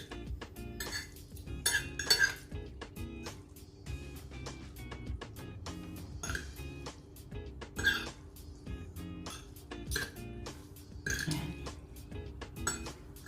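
Metal utensils clink and scrape against a dish while spicy hot chilli pancit canton instant noodles are tossed and mixed, with irregular close taps throughout and no speech.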